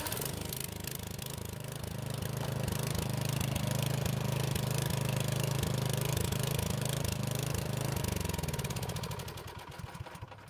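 A small engine on a Craftsman snow blower runs loudly and unevenly, its rhythm surging and dipping badly throughout, then winding down near the end.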